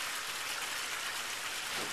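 A splashing stream runs as a steady, dense wash of water noise, continuous and fairly close, with no voices over it.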